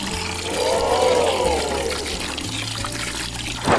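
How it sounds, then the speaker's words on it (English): A small toy LEGO pump pushes water into a miniature pool, a close trickling pour with a faint mechanical hum underneath and a brief splash at the end. "Pump water into the pool."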